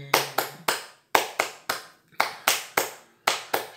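Hand clapping in a capoeira rhythm: sharp, close claps in repeating groups of three with short gaps between groups, alone and fairly crisp.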